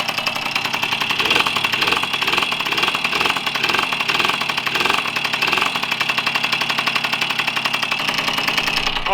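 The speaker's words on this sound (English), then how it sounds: "The bike has not shut off on me, and it's been running for like almost 10 minutes now, just idling" A long-neglected motorcycle engine idles steadily in snow after a cold start, with a fast, even rhythmic chugging and knocking, continuous and close, with no voices.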